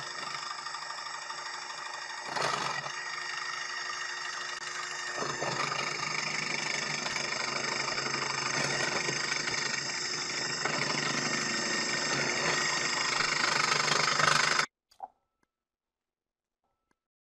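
A KitchenAid 13-cup food processor chops red and green peppers and quartered tomatoes dropped through the feed tube, its motor whirring loud and steady for about fourteen seconds before cutting off abruptly.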